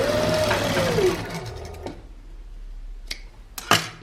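A sewing machine runs briefly as it double-stitches the side slit of a kameez, its whir fading out, followed by a few sharp clicks and taps of handling the machine and fabric.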